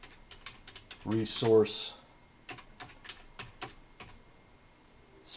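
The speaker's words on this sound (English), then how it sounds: "So I type in" Someone types on a computer keyboard, with a scattered series of light key clicks and a few quicker bursts, while a voice speaks briefly partway through.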